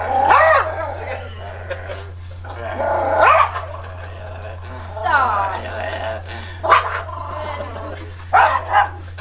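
A dog barks and growls in short bursts, several close outbursts spread across the stretch, with a steady low hum underneath and some speech mixed in.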